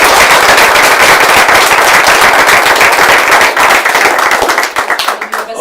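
Loud, dense applause from a school board meeting audience honoring a student board representative, continuous close clapping that thins into scattered claps near the end.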